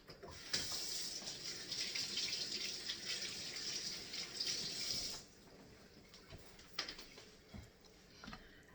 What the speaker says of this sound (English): what we haven't finished, are the tomatoes, and they need washing.